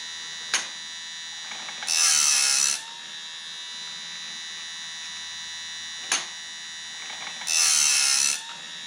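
A home bandsaw blade sharpener runs with a steady motor hum broken by repeated cycles, each one a sharp click followed by a bright, rasping grinding burst lasting about a second, heard close with no talking.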